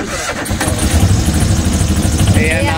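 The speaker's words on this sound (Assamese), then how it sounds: "নাও চলি গ'ল" Motorboat engine sputters to life and settles into a loud, rhythmic chugging, close by on the Brahmaputra River, with a voice speaking over it.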